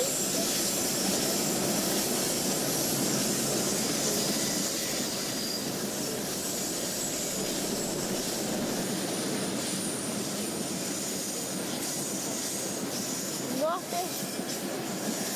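A long freight train with three locomotives rolling past, a loud continuous rumble and wheel clatter filling the scene at close range, with voices talking over it.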